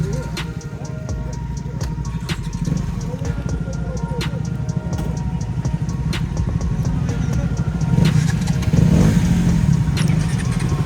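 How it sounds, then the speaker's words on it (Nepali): A motorcycle engine runs steadily with throttle changes and road rumble, the noise swelling near the end, with faint voices underneath. "हामी केटा बाइकरहरू बाइक हान्नु पऱ्यो ल"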